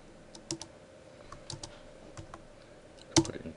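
Commands are typed on a computer keyboard in a quiet room, scattered soft key clicks in short bursts with a sharper tap near the end, heard alone.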